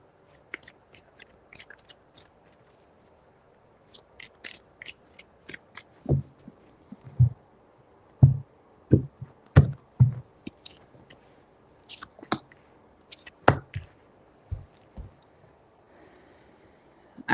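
Tarot cards are shuffled in three rounds, producing scattered crisp riffles, taps and slaps, close and fairly quiet, with short pauses between bursts and no talking.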